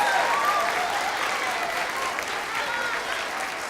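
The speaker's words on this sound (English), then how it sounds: "Let's give these boys and girls one more huge round of applause," Sustained applause from an audience at an elementary school fifth grade celebration, steady and dense throughout, with no voices standing out.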